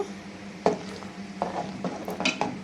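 A spoon stirs radish curry with its added broth in a pot, giving scattered scraping clinks and soft knocks against the metal over a faint low background, with no one talking.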